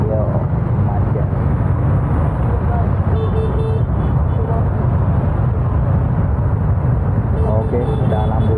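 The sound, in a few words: traffic jam at a red light in Meulaboh, Aceh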